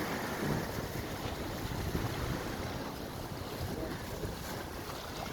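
Steady roar of strong wind buffeting the microphone over constant churning, murky sea waves, loud and unbroken throughout, with no voices.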